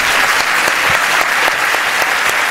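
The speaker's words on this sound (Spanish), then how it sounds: "¿A qué le dan ustedes ese aplauso?" Sustained applause from a lecture audience, dense and even clapping filling the room for a couple of seconds, loud and close with no voices over it.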